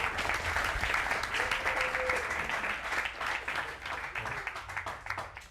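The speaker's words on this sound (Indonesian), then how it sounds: "Kasih tepuk tangan" Audience applause fills a room during an alumni sharing session, with steady dense clapping throughout that tapers slightly toward the end.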